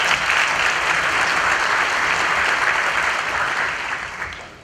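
An audience at a mayoral candidates' forum breaks into dense, even applause that holds strong for several seconds before tapering off, with no talking over it.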